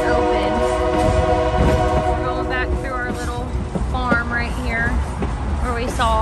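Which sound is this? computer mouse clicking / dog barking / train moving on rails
train moving on rails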